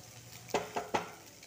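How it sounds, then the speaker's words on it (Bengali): Eggs being scrambled and fried in mustard oil in a pan, with a soft background sizzle broken by three sharp scraping stirs spaced evenly over a second and a half. "এবারে এখানে 2টো ডিম আমি পরপর দিয়ে এটাকে ঝুড়ো ঝুড়ো করে ভেজে নেব।"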